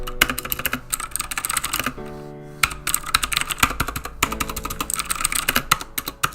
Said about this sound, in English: give you that nice clicky mechanical sound that you get with the traditional mechanical keyboard